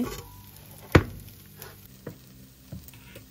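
Neer dosa batter spread on a hot pan over high heat hisses softly and steadily, broken by a sharp scrape near the start and a few lighter clinks.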